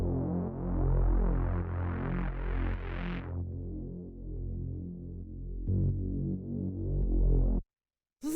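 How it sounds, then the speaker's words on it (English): A synth bass from a breakbeat techno track holds one long, droning note with a throbbing, pulsing timbre. The filter opens and closes in sweeps, then the tone cuts off near the end. "This is a simple bass line. It's just kind of holding out this one long note."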